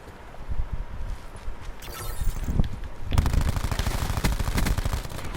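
Rapid automatic gunfire in a Call of Duty Black Ops 4 multiplayer match, starting with scattered shots and building into a sustained loud burst of fire, heard alone without talk.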